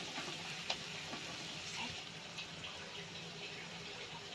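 Water is poured into a bowl that held tomatoes, then added to frying spices in a pan, giving a faint, steady splash-and-sizzle at close range with no talking.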